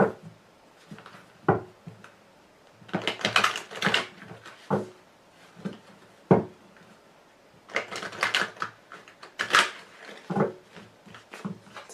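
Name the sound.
tarot cards being shuffled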